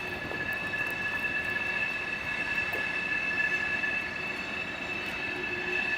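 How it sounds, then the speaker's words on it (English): A train rolls steadily down a deep incline into a city under heavy braking, with a constant rumble and sustained high-pitched wheel and brake squeal held throughout, no voices. "is putting heavy brakes on because it's in a deep incline going into the city now"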